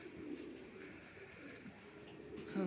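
Pigeons cooing in a poultry coop at feeding time, a soft, continuous low murmur of overlapping coos with faint chirps, close and steady throughout.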